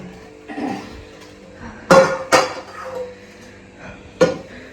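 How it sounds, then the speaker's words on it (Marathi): Dishes and pots being scrubbed and knocked together at a household sink, with two sharp close clatters, a later clank, and softer scraping and rubbing between them. "जीविका माझी भांडी घासते."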